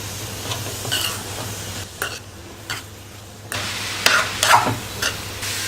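Carrot and grated coconut stirred together in a frying pan while making carrot ladoo, giving soft scraping and stirring sounds over a faint steady sizzle, with a few louder spoon strokes toward the end; no one speaks.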